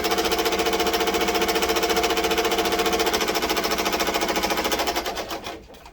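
A Ricoma EM1010 embroidery machine stitches at high speed, close and loud, as a fast, steady mechanical needle rattle that holds for about five seconds before slowing and dying away at the end.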